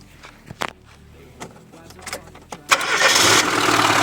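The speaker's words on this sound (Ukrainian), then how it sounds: "Запускаємо двигун." Car engine cranking and catching while running on gas, a few quiet clicks and thumps before the starter whirs and the engine fires into a loud, steady idle at close range.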